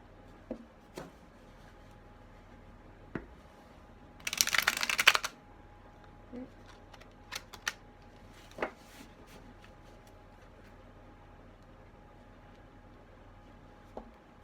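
One quick, crisp riffle of an oversized deck of cards being shuffled, close by, with scattered soft clicks and taps around it in a quiet room.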